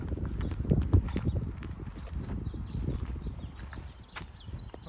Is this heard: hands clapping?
no